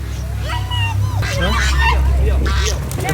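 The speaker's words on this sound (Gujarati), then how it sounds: "બતક છે ને બતક છે ને બેટા બતક" Ducks quack in short, honking bursts amid a busy background of traffic hum and crowd babble, with people talking nearby.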